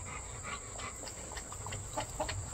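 Chickens and roosters on a farm clucking and calling in scattered bursts over a steady high insect-like hiss, with faint voices in the background.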